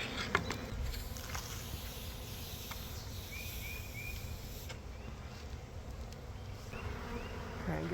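A honeybee swarm, shaken loose from a pole into a bucket 30 feet up, buzzes as a dense, steady drone close by that never lets up across the whole stretch.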